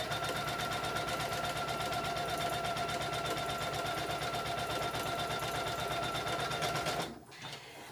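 Embroidery sewing machine stitching a design into fabric, a steady rapid mechanical chatter with a whirring hum that runs loud and even for about seven seconds before stopping abruptly.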